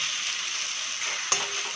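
Taro leaves (kochu shak) stirred and frying in mustard oil, a steady close sizzle broken near the end by one sharp clatter of the spatula against the pan.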